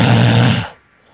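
One loud, close, rasping snore lasts just over half a second and then drops off into near silence.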